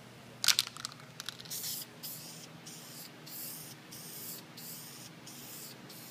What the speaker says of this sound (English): Now I'm going to spray gray primer on it.